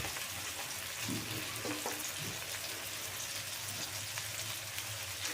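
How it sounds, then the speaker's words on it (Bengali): Chili sizzles steadily in hot oil in a pan while a crab curry is being made. It is a continuous, even frying hiss with faint crackles and no voices. "লঙ্কাটাকে আমি একটু ভালো করে ভেজে নেব"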